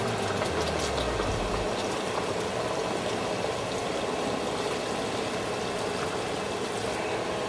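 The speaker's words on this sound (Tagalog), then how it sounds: "Then you add your water." Water pours steadily into a pot of beef shank for bulalo, a continuous close rushing and bubbling stream that stays even throughout, with no talk.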